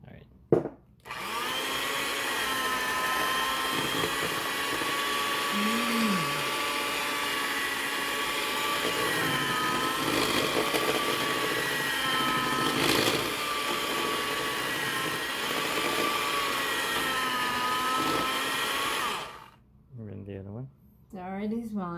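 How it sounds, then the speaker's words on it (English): An electric hand mixer whirs steadily while beating eggs into skillet chocolate chip cookie dough, a loud continuous motor drone with slight pitch shifts, stopping near the end as people talk briefly. "now we're gonna mix in the eggs"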